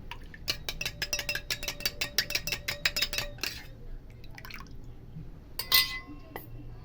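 Homemade hair toner of flax seed and rice water shaken hard in a bottle, a quick series of rhythmic liquid sloshes and plastic rattles, then a pause and a few softer handling knocks, close and fairly quiet.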